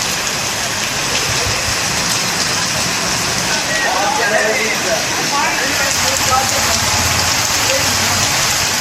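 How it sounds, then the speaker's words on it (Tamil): Heavy rain pours down in a dense, steady roar, loud and close throughout with no pauses. "இடி, மின்னல் மற்றும் காற்றுடன் கூடிய கனமழை வெளுத்து வாங்கியது"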